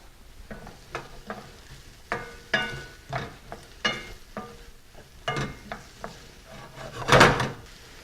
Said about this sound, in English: I'm going to sweat these vegetables, which basically means I'm going to cook them over medium heat without achieving any color.